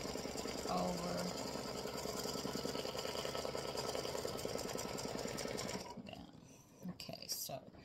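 An embroidery-capable sewing machine runs a basting stitch on fabric for an Easter bunny butt design, a steady fast mechanical whir for about six seconds before stopping, then faint handling noises and a brief burst.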